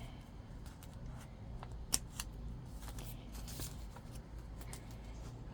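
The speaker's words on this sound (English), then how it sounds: "So just do a little snip." Scissors snip a hole in a plastic container for rooting cuttings, giving a few sharp, close, crisp cuts over quiet handling noise.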